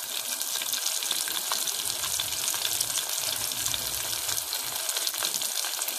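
Mustard seeds and cumin sizzle loudly and steadily in hot oil for a dal, with a dense, continuous crackling hiss and no pause.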